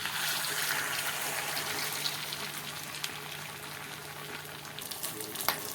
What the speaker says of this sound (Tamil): இப்போ மசாலா பரட்டி வச்ச ஃபிஷ்ஷை எடுத்து எண்ணெயில் போட்டுடலாம்.